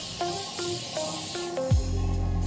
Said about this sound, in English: Just spray it on your hair.